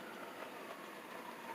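A steady, faint 3.8L V6 Chrysler Town & Country minivan engine idle hums evenly with no variation, a low continuous drone heard alone.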